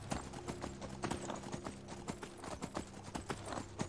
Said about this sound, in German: Das ist ein schönes Pferdchen.